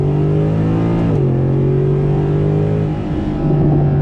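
The 6.3-liter V8 of a 2012 Mercedes-Benz SLS AMG supercar revs loudly and steadily up close, its pitch dipping and shifting as the automatic gearbox changes through a right-hand bend.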